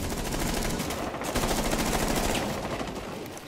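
Rainbow Six Siege gunfire comes in a loud, dense rapid burst of automatic shots that fills the whole moment without a break.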